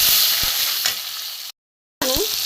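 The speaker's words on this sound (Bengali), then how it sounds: "মশলাটা ভালোই ভাজা হয়েছে" Turmeric, chili powder, cumin, coriander powder and grated ginger frying in a pan for a vegetarian kebab gravy give a steady, close sizzle that cuts out briefly, then resumes with a bubbling, spluttering hiss.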